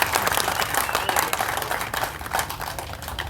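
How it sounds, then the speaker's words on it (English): An audience at a motorsport awards ceremony applauds, a dense wash of many hands clapping steadily with a faint voice or two mixed in. "let's hear it for Patrick"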